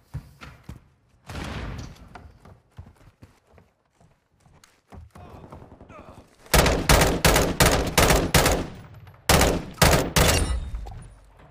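Rapid bursts of sniper and automatic gunfire from an online Call of Duty Modern Warfare 2 match, loud and close, with quieter scattered shots and game sounds early on before dense repeated volleys.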